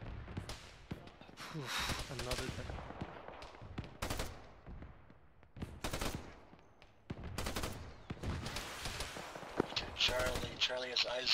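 Gunfire in a military video game, a nearby AR among the weapons, with repeated sharp rifle shots and bursts of automatic fire in irregular clusters throughout, while voices talk over the radio.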